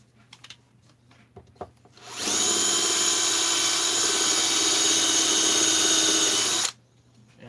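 After a few light knocks, a power drill runs loudly and steadily for about four seconds drilling into a 262XP case, then stops abruptly.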